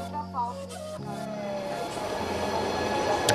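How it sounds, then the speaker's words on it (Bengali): Train pulling into a station near Castel Gandolfo, a rising rumble and rolling noise under a voice speaking early on. "ট্রেনে অলরেডি চলে এসেছে আমাদের, আমরা এখন ট্রেনে উঠে যাব।"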